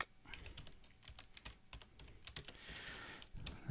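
Steady, fairly quick typing on a computer keyboard as a book title is entered, with soft irregular key clicks and taps running continuously at close range with no voices.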